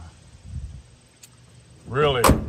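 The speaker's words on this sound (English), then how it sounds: "Doors shut solid." A single solid thump of an original truck door shutting at a muscle car show, coming near the end after a quiet stretch, with a brief voice just before it.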